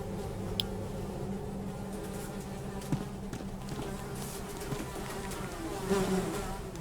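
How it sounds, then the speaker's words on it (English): Flies buzz near and far in a steady droning hum with pitch wavering as they circle, a couple of brief taps breaking through and a louder pass swelling toward the end. "Despite the buzzing flies, you hear the faintest sound of rushing water"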